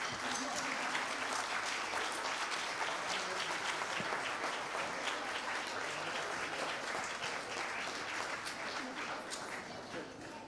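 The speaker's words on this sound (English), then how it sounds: "Ladies and gentlemen, would you give all the award recipients a round of applause?" Audience at a Hindi Divas school award ceremony giving the award recipients a long, even round of applause, loud and continuous throughout with a faint murmur of voices beneath.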